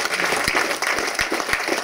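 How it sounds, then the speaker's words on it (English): A short burst of clapping from a press conference audience at a mixed martial arts event, dense and steady handclaps filling the room for under two seconds. "just a round of applause for this guy"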